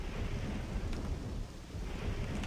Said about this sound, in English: Light rain pattered against the glass, the gentle noise punctuated by rumbles of coarse thunder.